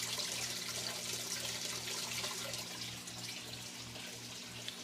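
Water drains steadily through the dual overflow of a 75-gallon aquarium sump, giving a continuous close trickling rush with faint gurgles and no talking.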